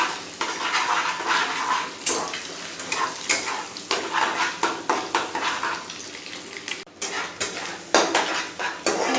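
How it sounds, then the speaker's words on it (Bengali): Egg frying in a pan, with its hiss mostly buried under repeated rhythmic scraping and clinking of a metal spatula against the pan, fairly loud and close. "ডিমটা দিয়ে দিয়েছি এবার ডিমটাকে ভালো করে ভেজে নেবো আগে"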